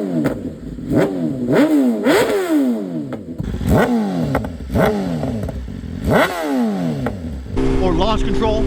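A 2024 BMW S1000RR engine is revved in a quick series of sharp blips, each surging up and falling back to a rough idle, loud and close, about eight throttle stabs in a row.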